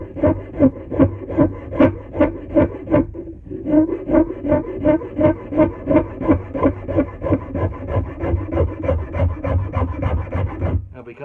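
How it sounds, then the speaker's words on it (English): A rasp files a hickory axe handle in steady rhythmic strokes, close and loud, about two strokes per second with a brief pause partway through. "I'm using the rounded side of my rasp because it reaches in there really nice"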